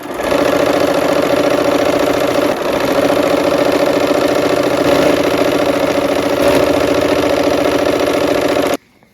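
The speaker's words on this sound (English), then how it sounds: "let's go sew" A sewing machine stitches an octagon quilt block with a steady, close, continuous motor whir that runs without a break and stops abruptly at the end.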